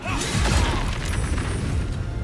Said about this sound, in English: I can, but that's quite an explosion.